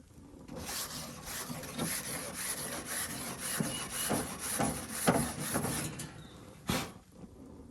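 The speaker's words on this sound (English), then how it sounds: "So I always clean my grill right before I cook it." A hot grill grate, heated past 400 degrees, being scrubbed clean with a wire brush: quiet, rhythmic back-and-forth scraping strokes, close up and without talk.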